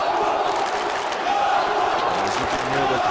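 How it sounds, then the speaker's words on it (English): A home crowd cheers and roars for a Turkish boxer during a light welterweight Olympic qualifier semifinal, a steady, loud mass of voices filling the arena. "As you can hear, the crowd here supporting, giving full support to the Turkish fighter"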